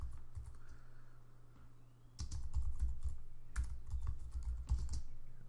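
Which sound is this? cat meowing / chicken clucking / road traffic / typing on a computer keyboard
typing on a computer keyboard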